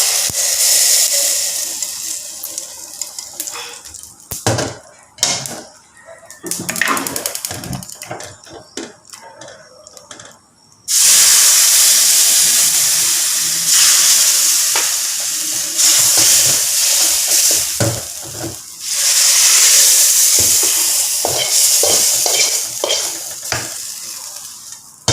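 Spices for a mixed vegetable sambar temper in hot oil in a pan. Clanks and stirring come first, then a loud, continuous hissing sizzle dominates the second half.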